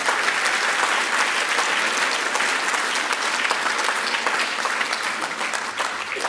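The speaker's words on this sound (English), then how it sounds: "put a round of applause for Friends of Al-Aqsa" A large audience at the Palestine Expo 2019 gives a sustained, dense round of applause that stays loud and even from start to finish, with no talking over it.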